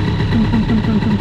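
A Metrakit 70 Nitro scooter engine with a boost crankcase runs at high revs, a loud, buzzy two-stroke drone with a rapid, regular pulsing in its tone, heard up close.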